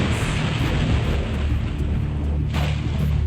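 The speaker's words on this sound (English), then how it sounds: "No, it spits multiple fireballs at you." Fireball blasts in the video game Yu-Gi-Oh! Duelist of the Roses: a continuous low rumbling roar with a few rapid bursts layered on top, loud and sustained without talk.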